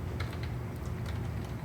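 Button presses on a keyboard-emulating control pad built with CircuitPython, several soft clicks heard up close against a steady background hum.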